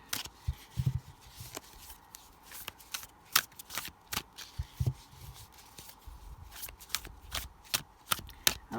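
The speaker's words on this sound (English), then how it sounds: "Shuffle these cards very carefully." Tarot cards are shuffled by hand in a quiet room, giving a close series of crisp riffling and snapping clicks in uneven bursts, with no voices.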